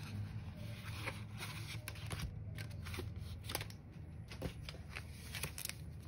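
Paper money bills being handled and sorted from an envelope, a run of soft close rustles, flicks and crinkles with short sharper snaps.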